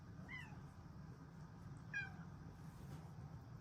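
A contented cat gives two short, faint meows about two seconds apart over a steady low background hum, with no talking.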